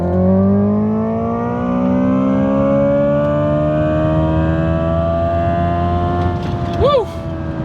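Simulated engine sound of a Hyundai Ioniq 5 N electric car, a loud steady droning whine of layered tones that slowly rises in pitch without gear shifts, ending in a brief sharp swoop.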